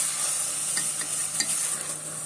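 Okra dish ingredients sauté in about a tea glass of oil while being stirred, a continuous soft sizzle broken by a few light scraping clicks of the spoon against the pan.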